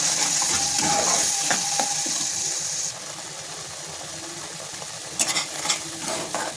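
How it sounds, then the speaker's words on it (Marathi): Ground masala paste sautéing in hot oil in a kadai, a steady close sizzle with spatula scrapes and clinks, the frying hiss easing partway through, then a few sharper stirring knocks near the end, no talk. "त्याच्यामध्ये जे वाटण करून घेतलेले आहे ते टाकून छान परतून घ्यायचं आहे"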